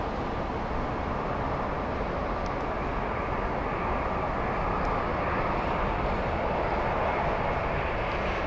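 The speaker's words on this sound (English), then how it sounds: "British Airways inbound next Lisbon flight." A British Airways airliner arriving at Heathrow Airport, heard as a steady, loud broadband roar of jet engines that swells slightly and stays constant throughout, with no talking.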